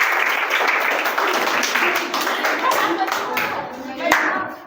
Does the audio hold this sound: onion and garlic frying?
no